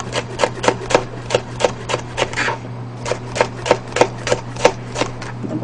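Steady series of crisp knife cuts slicing bell pepper on a board, evenly spaced with a brief pause midway, close and fairly loud over a low constant hum.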